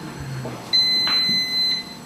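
An air fryer sounds its end-of-cycle beeps after cooking a whole tilapia fish: a steady, fairly loud high-pitched electronic tone with short breaks, heard alone with no talk.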